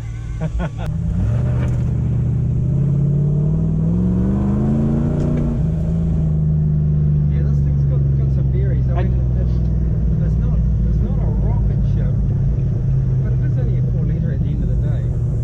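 A Toyota Hilux with big wheels and a 4-litre engine, automatic with manual shift control, drives on the road. A loud steady engine drone rises in pitch as it accelerates, then settles, while people talk over it.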